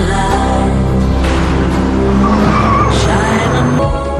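A Ferrari 355 supercar drives hard with its engine roaring steadily and its tires squealing throughout, loud and close, with no talk over it.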